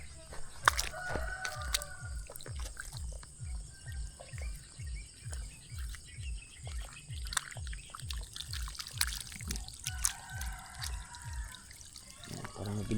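Chickens at a farm beside wet, waterlogged fields, with a rooster crowing and scattered clucks over a rhythmic low pulsing hum and steady insect chirring, moderately distant and fairly quiet.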